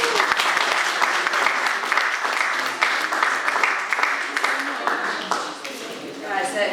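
Indoor audience giving a big round of applause at a comedy show, a dense burst of clapping that stays steady before thinning out near the end, with some voices mixed in.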